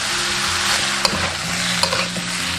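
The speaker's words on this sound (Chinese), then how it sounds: "把大米这样炒一下，等一下做出来的咸饭才会变香。" Rice and diced radish stir-fried in a hot wok for Minnan-style salted radish rice, giving a steady, loud sizzle with a couple of sharp spatula scrapes, close up and without voices.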